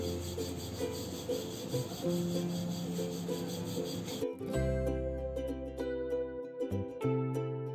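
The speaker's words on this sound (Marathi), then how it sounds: "आता आपण दुसरी पोळी लाटून घेऊ।" A rolling pin works puran poli dough in steady back-and-forth rubbing strokes, close and continuous, with a steady tonal hum beneath it.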